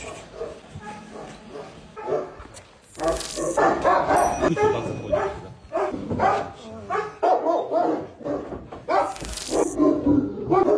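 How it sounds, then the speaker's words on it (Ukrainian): A small, thin abandoned Labrador puppy gives short barks and whimpers close by during an evacuation in Kherson region, mixed with a voice talking over and around it. "Так, ну що він другий покинутий песик."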